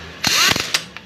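Bolts being tightened on the aluminium clutch cover of a Yamaha FZ motorcycle: a short, loud burst of rattling tool noise, then a couple of sharper clicks, close by with no talking.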